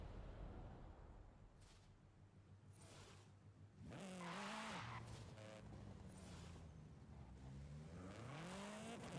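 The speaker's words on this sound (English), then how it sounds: "I like the sound that car makes." Tires squeal and skid as a car drifts in a video game, with an engine revving and shifting pitch underneath; the screeching swells mid-clip then eases, fairly quiet overall.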